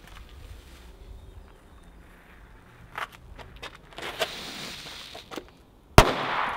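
A sudden sharp bang as a cake explodes near the end after scattered crackles and rustling, followed by a burst of hissing noise.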